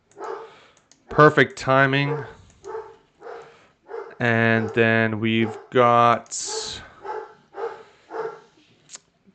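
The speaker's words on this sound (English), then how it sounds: "There's my dog as well. He's fired up." A dog barks loudly in bursts in a room with a computer setup, the excited barks mixed in with someone talking over them.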